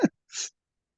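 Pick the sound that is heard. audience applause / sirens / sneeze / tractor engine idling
sneeze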